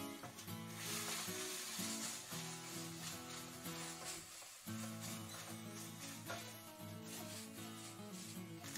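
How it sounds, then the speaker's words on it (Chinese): Minced garlic, scallion whites and lean ground pork sizzle steadily in a hot wok over medium-high heat, with scraping stir-fry strokes, all under continuous background music. "在煸香蒜末和葱白的同时啊，我们就继续翻炒我们的猪脚肉"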